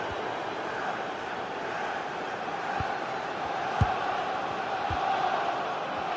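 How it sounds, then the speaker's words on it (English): The stadium crowd at a football video game match roars in a continuous, dense wash of noise with a few dull thumps, steady and full for the whole stretch. "The crowd certainly think so. Just listen to them."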